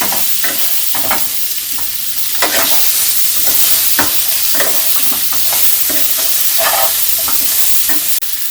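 Potatoes and onions fry in a pan with turmeric and salt for a dhaba-style aloo do pyaza, giving a steady close sizzle broken by repeated scraping stirs of a spoon, with no voices.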